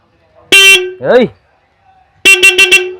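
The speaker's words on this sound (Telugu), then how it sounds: "హారన్ కొట్టు బ్రో" A loud, close lorry horn gives one short honk, a brief voice sounds, then four rapid honks follow in quick succession.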